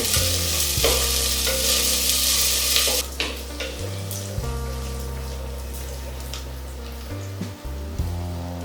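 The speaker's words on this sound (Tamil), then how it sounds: "வெங்காயம் பூண்டு இந்த அளவுக்கு வதங்கினா போதுங்க" Onion and garlic sautéing in a clay pot for a traditional fish curry give a loud, steady sizzle with intermittent stirring scrapes, close-up, with no talking.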